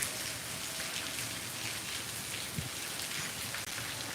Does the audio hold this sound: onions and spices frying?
no